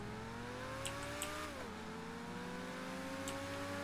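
Motorcycle engine in GTA 5 revving steadily, a droning tone that climbs, dips sharply, then holds, with faint clicks over it, continuous and close.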